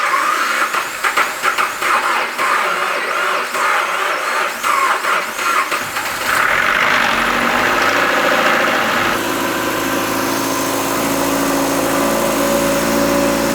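A 2022 Subaru BRZ engine, rebuilt after a wreck, cranks and catches, then settles into a steady, loud idle with a continuous mechanical drone and no talk over it.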